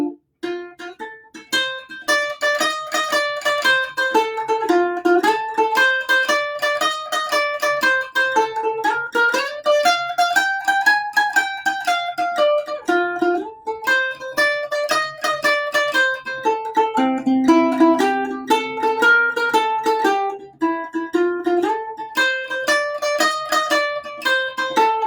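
Boogie-woogie piano pattern over a 12-bar blues progression, played steadily for the whole stretch with a rolling bass figure and chords, loud and close with no talking.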